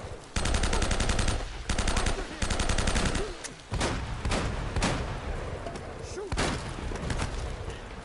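Rapid automatic gunfire bursts in Uncharted: Drake's Fortune, loud and close, with several sustained volleys broken by short gaps and single shots.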